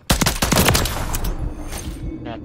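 AK rifle fire in a first-person shooter: a loud burst of rapid automatic shots right up front, trailing into a fading rumble and echo.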